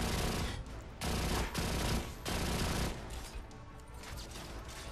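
Rapid bursts of gunfire from a weapon in Alien Rage, loud and close, firing in several sustained volleys with short gaps between them.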